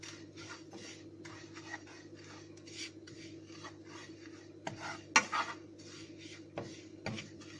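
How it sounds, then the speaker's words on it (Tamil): Grated coconut stirred and lightly fried in a pan, with a spoon or spatula scraping and rasping against the metal in short irregular strokes, a steady low hum beneath, fairly quiet and close. "அடுத்து நம்ம அதே பேனில் எடுத்து வச்சுருக்க அந்த 1 கப்பு தேங்காய் துருவலையும் இதில் வந்து லைட்டாக வந்து ஃப்ரை பண்ண போகிறேன்."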